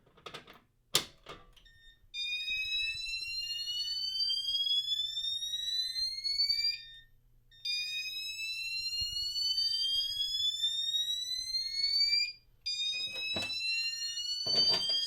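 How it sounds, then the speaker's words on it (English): A loud electronic fire alarm, triggered from a pull station, sounds in long repeating sweeps of rising tone, pausing briefly between cycles, after a few clicks at the start. "Let's go ahead and silence the panel and silence the alarm."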